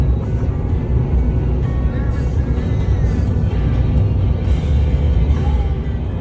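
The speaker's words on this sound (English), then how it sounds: "here we are on the freeway, doing about 70" An L5P Duramax diesel truck cruises on a freeway at about 70 mph, a loud steady low rumble of engine and road noise filling the cab with no break.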